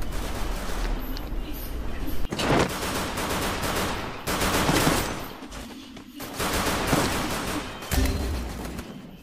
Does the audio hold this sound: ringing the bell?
no